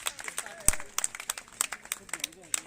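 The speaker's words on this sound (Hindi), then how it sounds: "बैठे बैठे तालियां बजाओ भाई सभी" Audience clapping in a busy hall at a defence academy celebration, rapid scattered claps overlapping with talking and crowd noise, one sharp loud clap standing out near the start.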